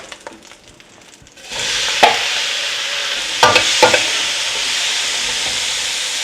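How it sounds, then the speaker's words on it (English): Olive oil sizzles steadily in a hot pan after a quiet start, with a few sharp clatters of stirring spiking above the continuous frying hiss. "just let it fry, and remember, it's about stir frying."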